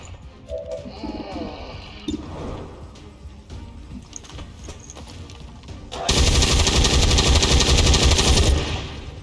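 Gunfire from a grenadier soldier in the turn-based strategy game XCOM 2, a burst of loud, dense shots near the end following quieter game sounds and effects.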